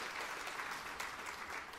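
A church congregation applauds, a faint, distant wash of many hands clapping steadily without pause.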